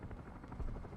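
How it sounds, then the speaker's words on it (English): A helicopter in a video game flies past, a faint, brief buzzing drone. "Oh, there's a helicopter."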